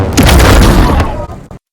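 A designed spaceship flyby effect for the game The Ascent, version two, is a loud, booming noisy rush that swells and then fades over under two seconds.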